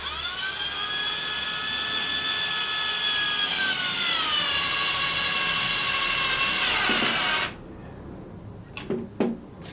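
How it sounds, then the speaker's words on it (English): A power driver with a weak clutch setting spins square-headed screws into thin wood stock for a bread bin, whining steadily at a rising pitch for several seconds, then stopping abruptly, followed by a few sharp clicks. "let's drive the screw home. These nice square-headed screws."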